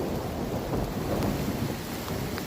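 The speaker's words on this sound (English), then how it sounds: "It's a thunderstorm right now, West." Severe, torrential thunderstorm over Woking town, with a dense steady roar of heavy rain and low rumbling thunder rolling continuously underneath, loud and close with no voices.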